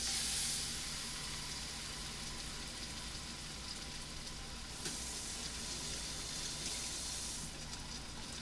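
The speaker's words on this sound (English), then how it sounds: "So let's go ahead and sear it." Seasoned pot roast sears fat side down in a hot pan, giving a steady, close, even sizzle and crackle that holds for several seconds with no talking.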